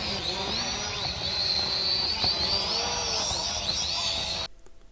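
Entry-level toy drone in flight, its high steady whine of small propellers close and continuous with slight pitch wavering, cutting off abruptly near the end.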